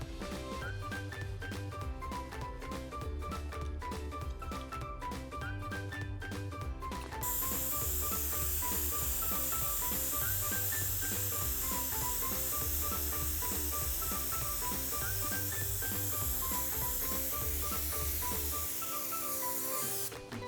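Tempered yellow cocoa butter is sprayed into a bonbon mold, a continuous airy hiss that starts abruptly and runs steadily for several seconds over looping background music.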